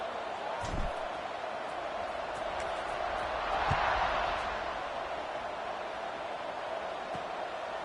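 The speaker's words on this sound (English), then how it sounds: "this crowd is buzzing after that last score." Stadium crowd noise in a college football video game, Georgia Tech against an FCS Southeast opponent, a steady broad roar that swells slightly midway, with a couple of faint thumps.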